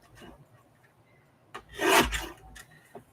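Craft paper for handmade ephemera is trimmed with one short, rasping cut that rises and fades in a quiet room, with a few soft handling rustles around it.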